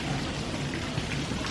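Rain falls steadily at Disney's Animal Kingdom theme park, a dense, loud, even patter on surfaces that continues without a break.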